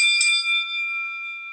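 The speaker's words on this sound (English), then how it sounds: "It's a old-fashioned, like a boxing bell." A single bright bell strike from an old-fashioned boxing bell timer rings out and sustains, its clear metallic tone slowly fading.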